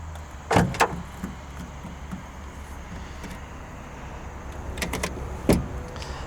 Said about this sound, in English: Press the key fob twice, drops down the normal bed.